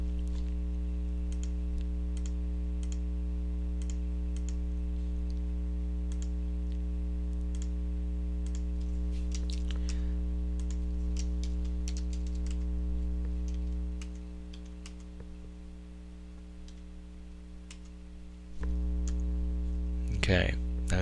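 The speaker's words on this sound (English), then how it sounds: "it helps if you can type" Typing on a computer keyboard, with scattered soft key clicks over a steady low electrical hum, fairly close and light in rhythm.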